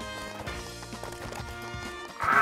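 Cartoonish horse neighs and clip-clopping hooves from the video game Ultimate Chicken Horse, playing over game music with a steady mid-level bed and a louder burst near the end.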